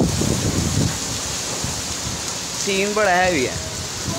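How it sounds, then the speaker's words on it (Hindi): Rain falls outdoors as a steady broadband hiss, with someone talking briefly in Hindi over it and a passing tonal whine near the end. "आगे देखिए बारिश हो रही है"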